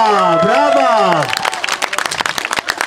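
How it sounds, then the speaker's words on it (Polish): Crowd applause at a Raiders versus Sabercats football game: a voice speaks loudly at first, then a dense burst of clapping and scattered cheering fills the rest of the moment. "Ale wielkie brawa dla tej dziewczynki jeszcze raz."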